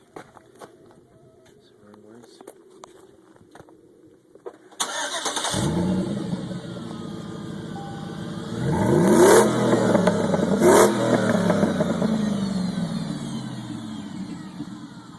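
A 2006 Chevy Silverado 1500 pickup with a Magnaflow exhaust cranks and fires up after a quiet moment, then settles into a deep rumbling idle with a couple of strong revs, close by, with people talking in the background.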